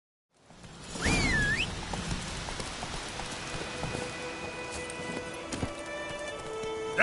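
Roach the horse gallops in The Witcher, hooves pounding in a steady rapid rhythm alongside rain-like patter and a swooping tonal effect, continuous and fairly close throughout.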